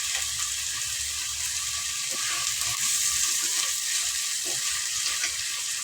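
Four green chilies sautéing in a pan, a continuous crackling sizzle, close and steady, with a few faint scraping touches and no speech.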